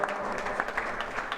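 An audience applauds to honour a guest at a yoga festival in Narmadapuram, giving a dense, steady crowd clapping heard briefly and fairly near.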